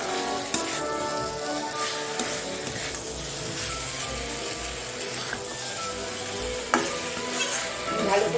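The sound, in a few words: vegetables being sautéed with spices in a pan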